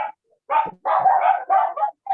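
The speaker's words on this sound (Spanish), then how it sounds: "Hay un perro ladrando." A dog barks nearby in a short burst of several loud, uneven barks and yips, alone with no talk.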